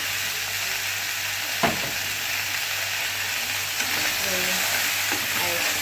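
Carrot, apple and butternut squash are stirred in a pot for butternut soup, giving a continuous soft sizzle and hiss with occasional spoon scrapes against the pan.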